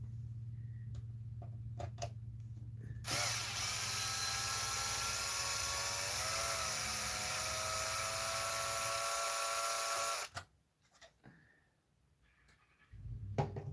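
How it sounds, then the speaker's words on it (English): Power tool, likely a cordless impact driver or drill, backing screws out of the underside of a Porsche 4S; a steady high-pitched whine holds for about seven seconds, loud and close, with faint clicks before and after. "I am just removing these screws out of the bottom here."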